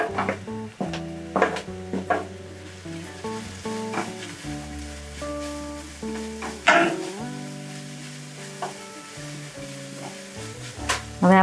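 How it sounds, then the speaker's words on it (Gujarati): Onions and carrots sauté in a hot pan for spring roll filling, a steady sizzle broken by stirring scrapes and clatters, with a tonal background running underneath throughout. "કાંદા આપણા જેવા તેવા સતળાઈ ગયા છે તો હવે આપણે ગાજર નાખશું"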